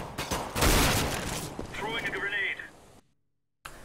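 Gunfire in Overwatch, a dense burst of rapid shots up close that tapers off into scattered game effects, then briefly cuts to silence.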